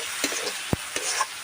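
Spiced masala for a Bengali egg curry being stirred and fried in a pan, a steady faint sizzle broken by a few sharp scraping stirs of the spoon, with no talking.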